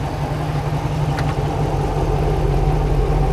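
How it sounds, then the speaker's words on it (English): The exhaust of a HEMI-swapped 1997 Jeep TJ rumbles in a steady, deep idle close by, loud and continuous, with only a slight shift in tone and no voices. "I don't know if you just heard the exhaust change pitch."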